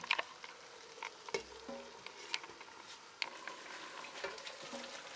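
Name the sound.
pinakbet vegetables simmering in covered pan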